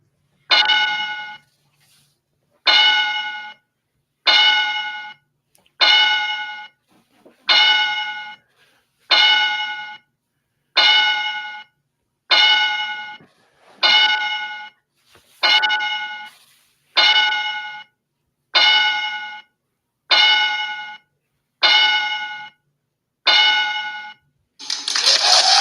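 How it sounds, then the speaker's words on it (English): Fifteen rings of a bell struck in a steady, evenly spaced series as a victory salute, each strike clear and ringing with a bright, sustained tone, alone without talk. "Yes, you just got a 15-bell salute."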